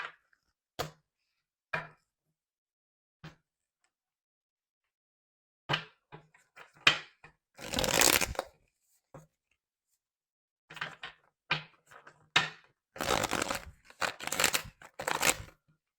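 Tarot cards are handled and shuffled in short, sharp bursts of riffling and tapping, separated by quiet gaps, with longer shuffling passages near the end, close and fairly faint.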